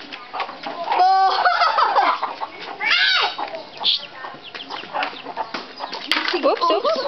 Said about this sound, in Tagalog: Mother chicken.